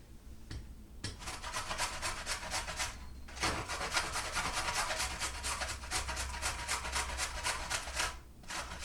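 Vegetables grated by hand on a grater for an Asian noodle salad, a rapid rhythmic rasping of repeated strokes, close and soft, with a brief pause partway through.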